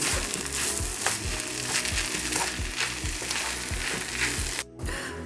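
Five-spice fried rice sizzles loudly in a hot pan while a spatula scrapes and stirs it in repeated rhythmic strokes, a continuous close crackle with a brief pause near the end.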